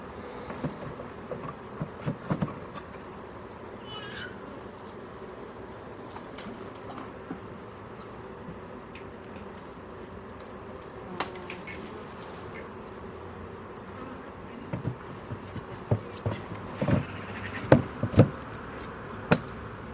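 Honey bees hum steadily during a WBC hive inspection, a soft continuous drone with a few sharp knocks and clicks growing more frequent toward the end, and no talking.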